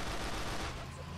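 Gunfire rattles in Grand Theft Auto IV, a dense, continuous barrage of shots forming a loud wash of noise for about a second, with voices mixed in underneath.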